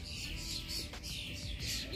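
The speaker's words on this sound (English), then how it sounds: "It's not planes, it's the birds" Birds chirp outdoors in faint, scattered high calls over a low steady background hum, with repeated short tweets across the moment.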